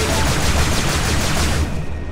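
A spaceship's weapons firing at mineral crystals in EVERSPACE, a loud, dense stream of rapid shots with crackling impacts that holds steady, then drops away at the end.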